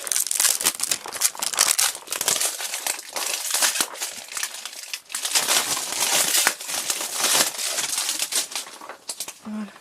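Loud, continuous crinkling and crackling of plastic wrap being pulled and peeled off a 12-pack Hatchimals box up close, with brief pauses between bursts.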